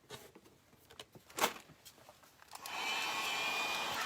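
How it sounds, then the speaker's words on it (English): A heat gun blowing hot air onto a chalk-paint decoupage flower piece starts up after a few faint taps and then holds a steady, close whooshing roar. "we're going to use the heat gun again"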